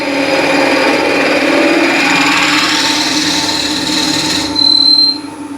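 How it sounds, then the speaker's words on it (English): A power drill with a 1/2 inch (12 mm) bit bores into wood at reduced speed, a steady loud whir that runs for about five seconds, then rises briefly in pitch before spinning down. "This is 1/2 inch diameter drill bit"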